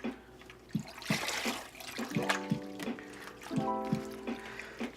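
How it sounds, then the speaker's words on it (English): Tap water runs and splashes as broccoli is rinsed in a sink while cooking, a steady close trickle with intermittent sloshing and bumps as the florets are moved around. "Okay, so you have to rinse this out like 2 or 3 times."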